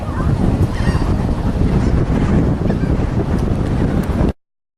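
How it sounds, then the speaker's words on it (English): Strong wind buffets the microphone outdoors at Battleship Park in Mobile, Alabama, a loud continuous roar of low rumble and gusts that fills the recording and then cuts off abruptly. "we got a lot of wind, so y'all might not be able to hear me"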